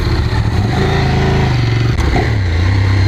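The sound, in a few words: motorcycle engine accelerating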